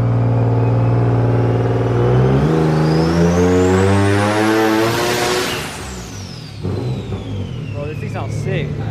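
A turbocharged Nissan 370Z engine revs up hard on a dyno in a rising roar with a climbing whine, then drops off abruptly to a lower idle-like hum.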